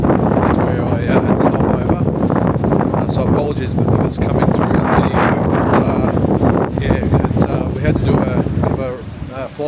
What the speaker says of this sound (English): It's actually very windy out here at the moment.